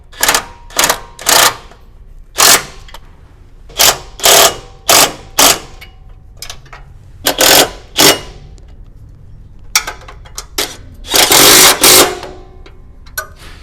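Bolts being tightened on an aluminum skid plate for a Toyota Tacoma: a series of sharp, close ratcheting or impact-driver bursts, each about a half-second long, repeating irregularly with short pauses, with a longer sustained burst near the end.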